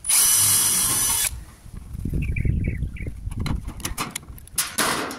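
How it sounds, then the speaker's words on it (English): A rivet gun driving rivets into a metal downpipe elbow makes a loud, shrill mechanical burst that cuts off sharply, then comes a run of nearby clanks, taps and handling knocks on the metal. "a rivet to each side. We put a rivet on both sides."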